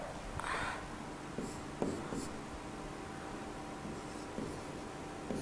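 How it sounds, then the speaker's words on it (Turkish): A pen scratches steadily across paper while an example sentence is written out, giving close, quiet strokes with a few sharper taps and scrapes over a faint background hum. "Bir örnek daha yazıyorum"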